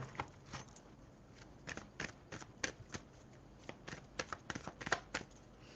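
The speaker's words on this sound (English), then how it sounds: "I'm trying to make sure I shuffle all these cards, all these decks." Tarot cards are shuffled in quick irregular bursts of crisp riffling and flicking, close and fairly quiet, with short pauses between flurries.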